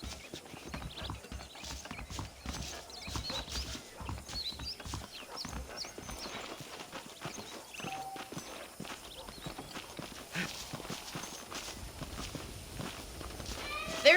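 Horse hooves clip-clopping at a walk in the Western video game Red Dead Redemption, a steady uneven patter of several horses close by, with faint ambient outdoor sound and an occasional soft snort.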